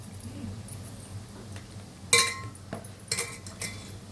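Fried boondi tossed with roasted peanuts, curry leaves, salt and chili powder in a metal bowl, giving soft scraping and a few sharp clinks of a spoon against the rim, close and without talk.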